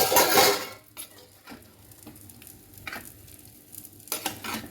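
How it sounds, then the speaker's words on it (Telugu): An omelet with green chillies sizzles in a home kitchen pan, with a loud burst at the start as it hits the oil, then steady low frying broken by a few scraping stirs. "ఆమ్లెట్ వేస్తానండి, పచ్చిమిర్చి వేసి."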